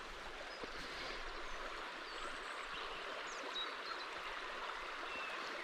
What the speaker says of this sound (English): little bit of river